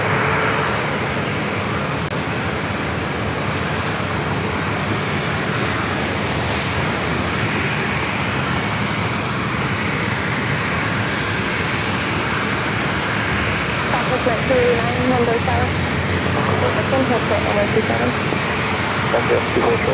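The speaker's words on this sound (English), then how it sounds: "Full flight heading to Denver. He's using most of the runway." Fully loaded airliner bound for Denver taking off from San Diego airport on a long runway roll, a loud sustained engine roar filling the scene, steady and broad, with voices talking over it.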